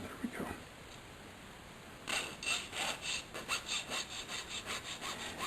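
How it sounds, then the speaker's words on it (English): Jeweler working a piece with a finer hand file, giving a series of rhythmic rasping strokes, close and moderately loud, after a brief quiet pause at the start. "Let me get a finer file."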